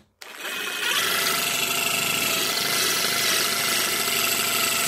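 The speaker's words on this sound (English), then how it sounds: "I'm gonna go ahead and put this on the drill real quick and show you how it works" A power drill spins in reverse with a screw extractor bit working on a stripped screw, starting abruptly and then running as a loud, steady, buzzing whine close by with no talk.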